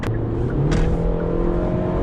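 A 2019 Hyundai Santa Fe's naturally aspirated engine revs steadily with a low, droning tone and strong harmonics, loud and close, with a brief rising surge partway through.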